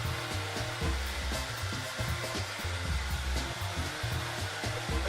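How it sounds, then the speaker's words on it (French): A hair dryer drying hair at the roots blows a loud, steady whoosh with a low motor hum, its airflow fluttering in rough pulses as it is moved, heard up close without talk. "Et là je vais travailler un peu la racine avec mon séchoir"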